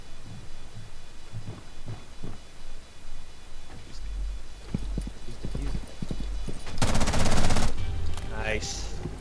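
Gunfire in Rainbow Six Siege, a burst of rapid shots at close range, loud and dense for about a second near the end, following scattered lighter knocks and thumps.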